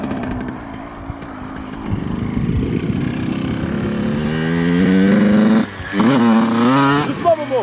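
A Yamaha YZ 82 motocross bike engine revs and drops repeatedly as it pulls wheelies, its pitch rising and falling up close, with people talking over it.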